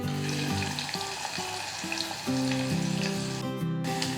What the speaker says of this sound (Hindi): प्याज को हमें गोल्डन ब्राउन नहीं करना है, बस गुलाबी होने तक हम थोड़ा इसे सौटे करेंगे